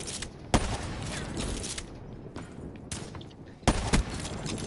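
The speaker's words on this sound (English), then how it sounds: "They're shooting at me." Gunfire in Black Ops 3 multiplayer, with sharp single shots and short bursts popping irregularly over a busy, crackling battle background at moderate volume.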